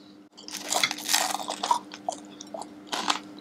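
Chewing a crunchy fried hawker snack close to the mic, with steady crackling bites and crunches over a faint background hum and no talk.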